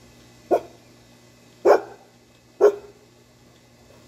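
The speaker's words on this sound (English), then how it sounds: "Why are you barking at her?" A dog on a raft barks three times, sharp single woofs spaced about a second apart, close and loud against a quiet background with a low steady hum.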